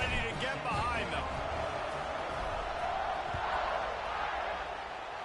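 Stadium crowd roar from the NCAA 25 college football video game, a steady, dense wash of noise throughout during a kickoff, with a commentator's voice talking over it.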